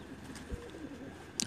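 A handled pigeon coos softly during wing feather trimming, a few low, quiet coos over faint background noise, with a brief sharper sound near the end.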